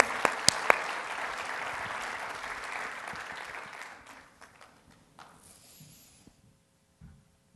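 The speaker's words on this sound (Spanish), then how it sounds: "un aplauso para Flavia" Conference audience applauding the speaker Flavia at a constitutional law congress, a roomful of clapping that holds strong for about four seconds, then fades to scattered claps and quiet room noise.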